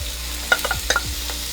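Beef and vegetables for Thai pad krapow stir-frying in a hot pan, giving a steady low sizzle broken by a few short scraping stirs and clatters, close and moderately quiet.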